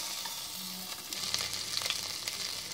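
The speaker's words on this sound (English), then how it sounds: "Once the ghee has become hot, now we'll add green chilies and ginger garlic paste." Green chilies and ginger garlic paste sizzle in hot ghee inside a pressure pan, a steady close crackle with light stirring scrapes and a few small pops.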